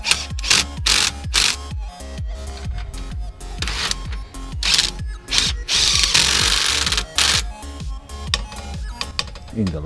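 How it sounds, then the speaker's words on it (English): Bolts are tightened on the rear brake caliper of a Volkswagen Touareg with a power tool, giving rapid repeated ratcheting bursts that are loud and close, broken by short pauses and one longer whirring run. "In the last step, just tighten the bolts."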